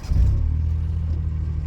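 Low, rumbling engine of a manual car as the clutch is released, a close, steady throb that swells briefly at the start and then holds evenly.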